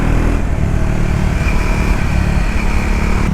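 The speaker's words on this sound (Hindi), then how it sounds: "एग्जॉस्ट का जो नोट है वो बहुत ही थम्पी है, बहुत ही बेसी बूमी साउंड है" A 2025 Triumph Scrambler 400 XC motorcycle runs with a loud, deep, thumpy exhaust note, a steady bassy engine rumble heard close throughout.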